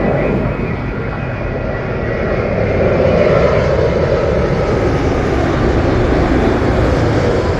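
A British Airways Boeing 787-10 Dreamliner comes in to land at Heathrow, its engines a steady broad roar that swells slightly and holds loud throughout, with no voices.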